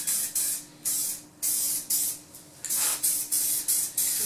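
Spray adhesive bursts from an aerosol can nozzle while coating a vehicle headliner, about ten short hissing sprays in a quick uneven rhythm, close and loud with brief gaps between.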